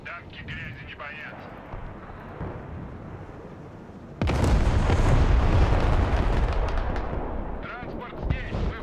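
Heavy bomb explosions in the military strategy video game Broken Arrow erupt abruptly into a sustained loud rumbling roar of blasts after a quieter stretch, with voices talking over it.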